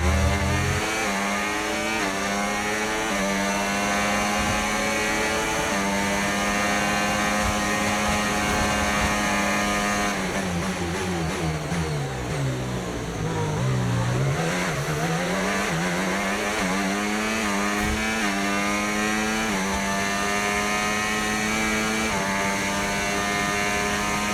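A Formula 1 race car engine in the F1 25 video game screams at a steady high pitch throughout, dipping through downshifts midway before climbing back up to a sustained whine.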